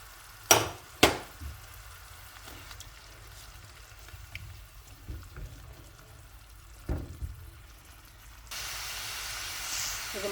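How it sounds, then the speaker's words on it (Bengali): Spices (turmeric, chili, cumin, coriander and salt) frying in a pan with ginger paste, a soft steady sizzle with a few sharp knocks of utensils against the pan. "এই যে মশলা কষানো হয়ে গেছে"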